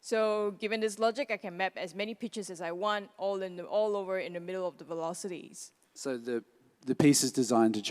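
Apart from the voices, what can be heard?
No everyday noises stand out.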